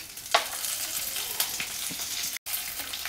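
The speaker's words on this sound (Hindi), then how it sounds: "तेल गर्म हो गया है तो तेल में हम राई, तिल और नीम के पत्ते डालेंगे" Mustard seeds, sesame seeds and neem leaves hit hot oil and sizzle steadily, with a bright continuous crackle and a few sharper pops, close and fairly quiet with no talk.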